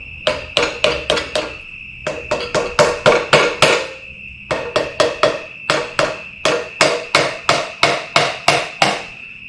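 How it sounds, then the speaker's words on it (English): A hammer taps on the top end of a Yamaha XS650 engine during a rebuild, giving sharp, ringing metallic strikes in four quick rhythmic runs of about five to seven blows, with short pauses between the runs. "I say carefully and I get a hammer"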